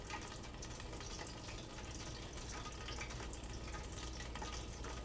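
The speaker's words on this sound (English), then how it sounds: "Like a chicken frying in the background" Steady, dense crackling sizzle of chicken frying in hot oil, continuous and fairly close throughout with no voices.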